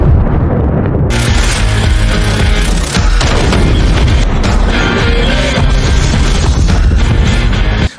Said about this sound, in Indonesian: Begitu ledakan pertama terjadi,